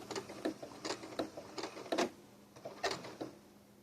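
A sewing machine stitches a blanket stitch binding on an appliqué, making a quick run of rhythmic, clacking stitch beats with small pauses between groups, close and clear with no talking.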